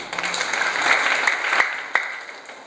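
Audience in a motivational training session applauding together, a dense, steady clapping roar with a few sharp accents, not clearly three separate claps.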